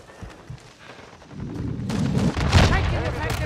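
Shotgun blasts in a fast-paced shooter video game on the District map, a dense run of loud booming shots and overlapping gunfire that builds after the first second and stays heavy to the end, with a voice talking faintly underneath.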